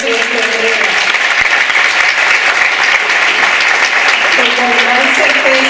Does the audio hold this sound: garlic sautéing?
no